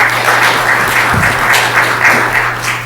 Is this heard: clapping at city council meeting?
yes